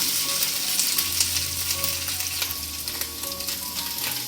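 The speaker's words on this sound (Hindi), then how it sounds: "1 मिनट के लिए इसको फ्राई करूँगी मैं चिकन को ऑयल में।" Chicken sizzles and fries in hot oil in a pan while spring rolls are being made, a steady, close, fairly loud crackle that holds throughout with no talking.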